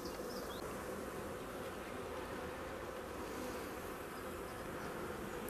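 Honey bees swarm around an apiary hive of a newly created colony, their dense, steady buzz filling the whole stretch up close with no pauses and no voices.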